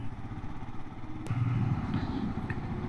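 A Royal Enfield Himalayan 2021 motorcycle engine thumps at low revs while riding on a road trip, a steady close rumble with a brief sharp click partway through.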